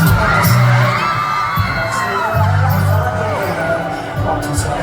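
A concert crowd at a show cheers and shouts loudly and continuously, with high screams and whoops rising over the din.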